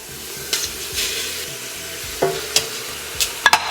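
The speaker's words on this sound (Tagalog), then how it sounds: "Kapag nagisa nyo na maigi, ibalik nyo tong beef shank" Beef shank sautés in a pan with a constant sizzle, broken by several sharp utensil scrapes and clinks as the meat is stirred, and no one speaks.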